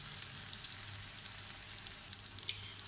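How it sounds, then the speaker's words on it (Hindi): Shami kebabs filled with egg fry on a slow flame, giving a soft, even sizzle with scattered small crackles and pops, quiet and close, with no talk over it. "इसे स्लो आंच पे फ्राई करना है ताकि इसके जो अंदर जो मैंने अंडा डाला है वो भी अच्छे से पक जाए।"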